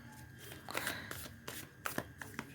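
Tarot cards handled and shuffled, with a run of soft, quick papery slaps and flutters as cards drop and fall, faint and close.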